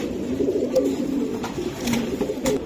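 Racing pigeons from a club loft coo softly and continuously up close, low murmuring calls overlapping with a few faint clicks and rustles in the background.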